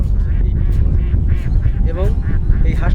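On a farm by an open wetland, a flock of ducks quacks loudly and close by in overlapping, repeated calls, with a voice speaking underneath.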